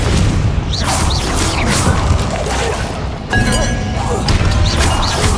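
In the Hogwarts Legacy video game, a Confringo fire spell blasts with booming, crashing impacts inside dense, continuous combat sound, loud and close.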